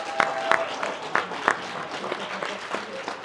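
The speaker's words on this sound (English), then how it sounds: "I want a round of applause for Old Spice," Crowd at a boxing promotion event applauding a 65-year-old former amateur boxer fighting as Old Spice, with scattered distinct claps and sharp hits over a busy room murmur.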